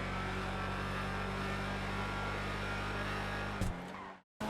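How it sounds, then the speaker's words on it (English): A video game sports car engine, the RT3000 in GTA Online, idles with a deep, steady rumble and harmonic hum, then blips sharply near the end before cutting off abruptly to silence. "what a great sounding car on startup and throughout revving"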